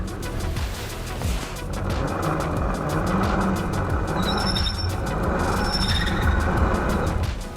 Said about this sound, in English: Yeah, spinning faster, but we're not moving.